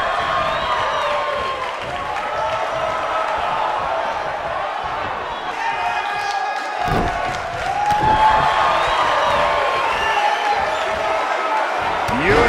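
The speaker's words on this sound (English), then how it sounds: "by the sound of this crowd, I think they're getting what they wanted" The arena crowd at a WWE NXT match between Pete Dunne and Damian Priest cheers and roars steadily with whoops, mat slams and thuds, under an announcer's running commentary.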